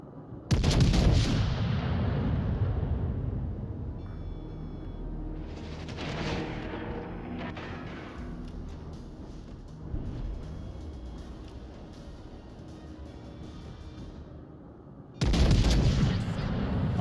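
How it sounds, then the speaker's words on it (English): Ship cannons boom in World of Warships: Legends, a loud salvo opening the passage, another mid-way and a final heavy blast near the end, with long rolling rumbles and battle noise trailing between shots. "Fucking troll cannons."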